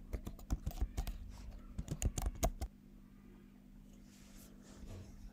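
Typing on a Mac computer keyboard to search for a code-editor extension: a quick burst of close, crisp key clicks for about two and a half seconds, then only a low steady hum.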